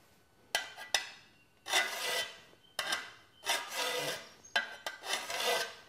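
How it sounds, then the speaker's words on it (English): Hand file sharpening the blade of a garden tool, giving six or so close scraping strokes in an uneven rhythm with short pauses between them. "We'll need to sharpen the back a little bit just to get all four sides."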